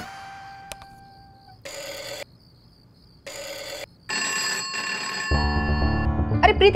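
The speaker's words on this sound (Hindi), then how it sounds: "जाके फोन उठा" A home telephone rings in repeated bursts separated by short gaps, bright and insistent, before other tones and music swell at the end.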